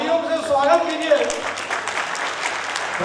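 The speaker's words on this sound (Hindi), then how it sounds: "तालियों से स्वागत कीजिए" Crowd applause fills the space, steady clapping from many hands over a brief moment of speech at the start.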